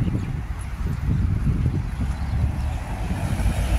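Strong, cold gusty wind in Sharjah buffets the microphone with a constant low roar, no voices heard.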